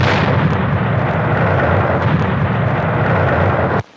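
A dynamite explosion at a hideout in a movie gives a loud, sustained roaring blast with a rumbling low end for about four seconds, then cuts off abruptly.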